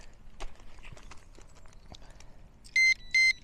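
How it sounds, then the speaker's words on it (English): A fishing bite alarm at a fishery lake gives two short, sharp, high electronic beeps near the end, after faint rustling and footstep-like knocks nearby. "Oh, your bite alarm is on."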